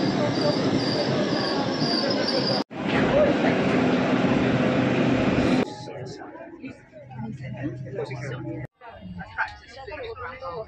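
A crowded train in London rumbles loudly with squealing wheels for several seconds, then gives way to nearby voices talking over quieter background noise.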